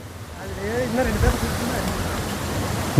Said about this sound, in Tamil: ஒரு வழியாக காட்டில் இருக்கிற அருவி கண்டுபிடிச்ச மாதிரி